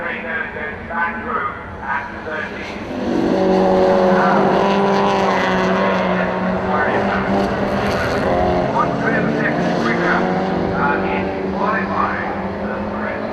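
Early Ford saloon racing cars, a Sierra among them, roar around a circuit, engines rising to a loud sustained drone after a quieter start, with a commentator talking over the noise throughout.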